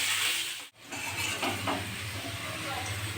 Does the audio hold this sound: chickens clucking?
no